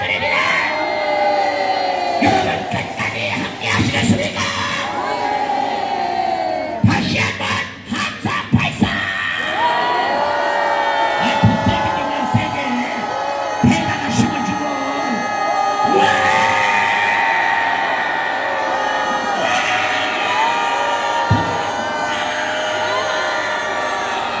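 A large crowd at a gathering cheers and shouts while people dance. The roar is loud and continuous, with repeated bursts of whoops and yelling, and a few voices stand out.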